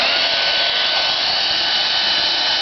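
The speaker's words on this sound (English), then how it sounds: "Now I heat up the engine tank with hair dryer." A hair dryer blows steadily and loudly close by, heating the tank of a small model vacuum engine with a constant whooshing hiss and no other sound.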